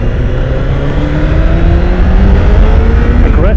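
A 2016 Honda CBR1000RR SP sport motorcycle engine revs up close and loud, its pitch climbing steadily through one smooth, rising pull before settling.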